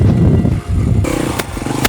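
A motocross motorcycle is ridden during enduro technique practice, its engine loud and close, with a rough buzzing note that rises as the throttle opens.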